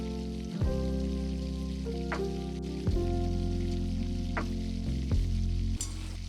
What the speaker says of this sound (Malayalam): ഓൾമോസ്റ്റ് ഒരു ഗോൾഡൻ ബ്രൗൺ കളർ ആവുന്നവരെ ഫ്രൈ ചെയ്യണം